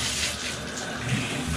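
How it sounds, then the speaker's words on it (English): Shower water runs steadily in a bathtub after the spout lever is pulled up, a continuous broadband hiss and splash close by with no voices. "pulling it up, getting our shower going."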